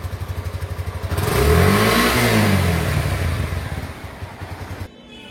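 A Suzuki Intruder 150 fuel-injected ABS cruiser motorcycle revs up from a steady idle putter into a loud, rising roar in a showroom, holds there, then falls back to idle before cutting off.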